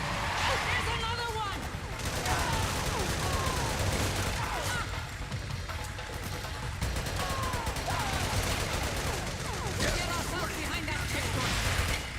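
Gunfire from the video game Metal Gear Solid 4: Guns of the Patriots, a steady dense fusillade of shots with machine-gun bursts running throughout, loud and continuous, with voices talking over it.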